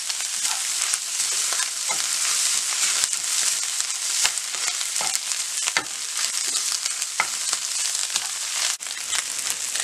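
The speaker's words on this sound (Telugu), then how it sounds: "ఇంకా ఇలా ఫ్రై అయిన తర్వాత స్టవ్ ఆఫ్ చేసుకోవాలి" Egg burji with chili powder fries in a pan, producing a loud, continuous close-up sizzle punctuated by occasional clicks and scrapes of a spatula stirring.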